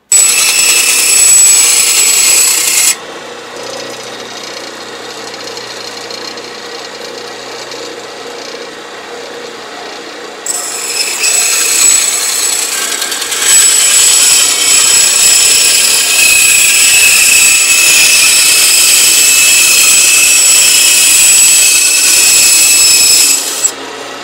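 A power tool grinds and cuts into a violin top during crack repair, a loud continuous rasping whir that drops to a lower hum for several seconds, then rises again and runs steadily until it stops.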